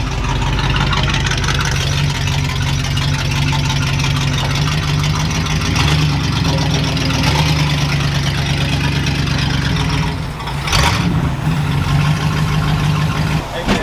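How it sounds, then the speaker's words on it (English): A tractor engine fitted with one muffler and one straight pipe runs at a steady, rumbling idle close by, with a person talking over it. "I have one muffler and one straight pipe. That's why it sounds the way it does."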